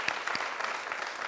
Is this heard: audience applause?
yes